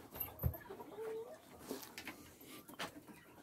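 A white rooster gives a few short clucks, fairly faint, amid quiet background noise.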